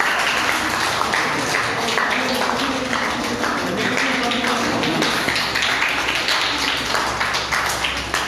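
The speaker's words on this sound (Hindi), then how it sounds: "जोरदार ताली बजोस् उहाँहरू।" An audience at a Mithila painting competition event applauds with dense, steady clapping that carries on evenly throughout, close and moderately loud.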